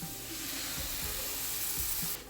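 Ground masala for a shark curry dropped into a hot pan, sizzling in a dense continuous hiss with soft rhythmic stirring thumps, close by, no voices, cutting off near the end.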